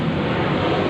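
A steady, broad roar of an airplane passing overhead, constant and fairly loud for the whole moment, with no voices.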